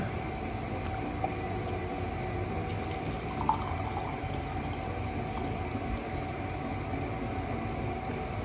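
Water pours from a small kettle into a mug, a steady continuous hiss of liquid heard fairly close, even in loudness throughout, with no talking over it.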